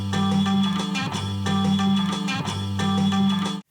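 A warped 7-inch vinyl single plays alone at steady volume, with the music looping through repeated phrases before cutting off abruptly near the end.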